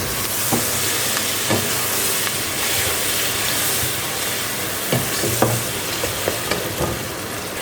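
Minced meat with peas and tomatoes frying in a pan gives a continuous loud sizzle, with scattered scrapes and taps from a stirring spoon and no talking.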